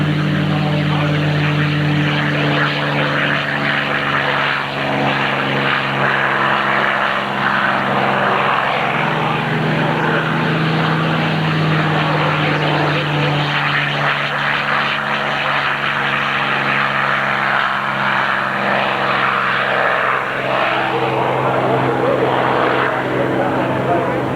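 Propeller aircraft taking off at an airshow, a steady loud engine drone and broadband rush that hold throughout with a low tonal hum, while people talk faintly underneath.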